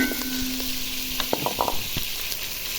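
Spice paste for chicken biryani frying in a pot after cinnamon and cardamom, a steady close sizzle with a few soft scraping stirs, no talking.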